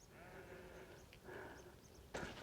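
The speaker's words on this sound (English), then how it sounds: "Listen closely. Sheep, birds, me breathing," Sheep bleat on a quiet hillside during a walk in Midlothian, Scotland, with two or three faint, wavering calls spaced over a couple of seconds against soft open-air background.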